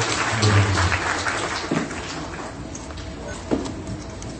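Audience applause at an evening event where a council president speaks, a broad crowd clatter that is loudest early, then thins and fades toward the end with a few stray claps.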